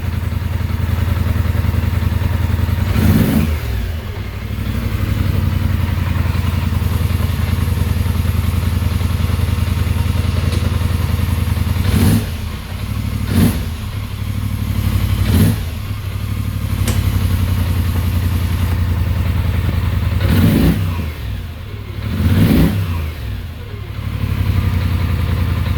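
A 2021 Polaris Sportsman 850 ATV with a throttle idle fault idles loudly and close, its engine note rising in several short revs spread across the clip, with no talking.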